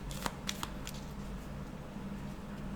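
A card is drawn from a 50-card Victorian-themed oracle deck, giving a few soft, brief papery slides and flicks near the start before quiet room tone.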